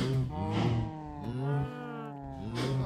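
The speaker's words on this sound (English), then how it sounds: "Oh, the screams of flaming cows." Cows on fire in the video game Minecraft let out three drawn-out, wavering moos in quick succession, loud and close with nothing else over them.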